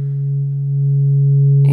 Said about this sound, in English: If we look at the sine wave for comparison there.